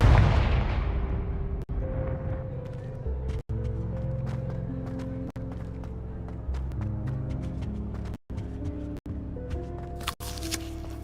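A fiery Confringo spell in Hogwarts Legacy sets off a booming blast that decays into sustained game music, with a few sharp pops and cuts punctuating the steady tonal bed.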